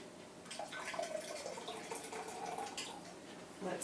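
Warm tap water runs steadily from a kitchen faucet into a bread mix, a continuous close splashing stream with a slight dripping texture throughout, no voices.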